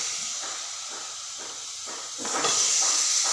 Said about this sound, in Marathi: छान अशी वांगे मस्त चिरून घेतलेले आहे ते सोडते